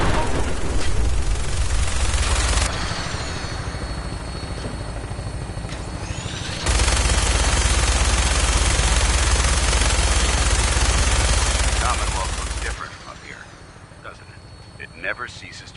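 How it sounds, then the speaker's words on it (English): A minigun mounted on a helicopter in Fallout 4 roars in two long, loud, sustained bursts over the steady thrum of rotor noise, and the engine drone carries on alone between and after them. "minigun in front of you is loaded and ready to fire"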